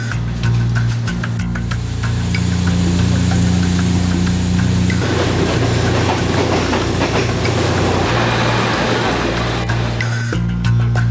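A Thai third-class train rolls along the rails, a loud steady rumble from inside the carriage with rhythmic clickety-clack over the track joints.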